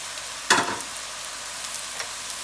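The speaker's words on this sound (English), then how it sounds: "I'm gonna add my bok choy, because I want those stems to cook." Bok choy dropped into a hot pan for vegetable chow mein gives a brief, bright sizzle burst that quickly fades into a low, steady frying hiss, with a few small crackles afterward.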